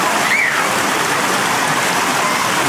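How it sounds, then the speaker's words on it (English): Water rushes down the waterfall stairs of an outdoor recreation-center pool in a dense, continuous splashing hiss, close and steady throughout, with a brief faint whistle early on. "it's got these really cool waterfall stairs, which Tyler climbed right up."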